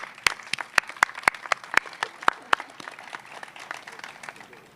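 A modest crowd at an outdoor city announcement claps for city employees, a scattered run of crisp, distinct hand claps up front that thins into lighter, more distant clapping.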